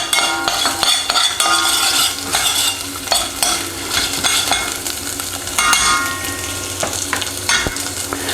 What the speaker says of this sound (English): Cook out some of that rawness in that paste.